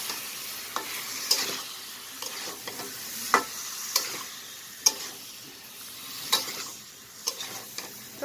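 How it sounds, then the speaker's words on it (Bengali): One kilogram of chopped tomatoes frying with spices in a pan for tomato bhuna, with a steady sizzle broken by repeated sharp scrapes and knocks of a spoon stirring close by. "টমেটোগুলো দিয়ে দিচ্ছি, দিয়ে ভালো করে একটু মিক্স করে নিচ্ছি মশলার সঙ্গে।"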